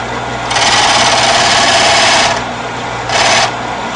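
A Shopsmith SS104 abrasive disc grinding a chisel edge, heard as two bursts of close, hissing scraping over a steady motor hum, the first lasting nearly two seconds and the second brief.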